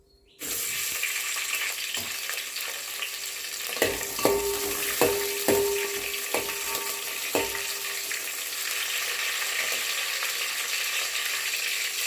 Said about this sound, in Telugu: పచ్చిమిర్చి ఆరు తీసుకొని కడిగి కడి చేసుకొని ఆయిల్లో వేసుకోవాలి